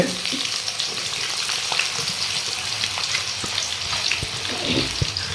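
About a quarter kilo of long-sliced onions frying in oil for a dhaba-style chicken masala, a loud, steady sizzle with scraping stirs and a few clinks near the end.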